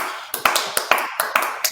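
Hands clapping along on a live online chat show, about ten sharp, fairly evenly spaced claps in under two seconds, close and distinct with a light hum between them.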